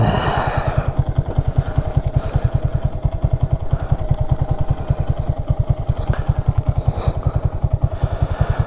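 A 2022 Honda Grom motorcycle engine thumps at a steady, rapid idle-like pulse, close and even throughout, with no voices over it.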